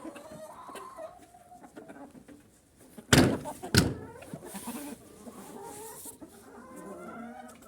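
Bantam hens and a small rooster cluck and squabble in a farmyard, two sharp loud bursts of a fight breaking out midway between steady low clucking, with faint background noise throughout.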